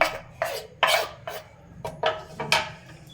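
Egg parota mixture being stirred in a bowl, giving a series of close scraping, clinking strokes at an irregular rhythm, each a short rasp against the bowl, with no talking.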